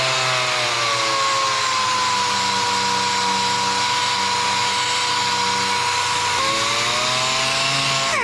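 A power sander fitted with 180 grit sandpaper runs steadily against painted bodywork, a continuous loud whine and hiss whose pitch dips midway and then recovers, with no voices.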